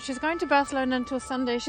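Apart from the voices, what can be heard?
No distinct noise like a dog, phone or traffic.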